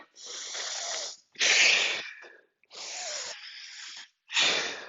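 Heavy breathing during a set of gym thrusters, with loud, close breaths in a steady in-and-out rhythm of four long bursts separated by short pauses, and no talking.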